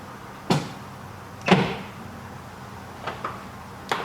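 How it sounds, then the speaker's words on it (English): Car parking brake lever released in a garage, giving a few sharp mechanical clunks and clicks as it springs back, spaced apart against a quiet background. "Now I just released the parking brake."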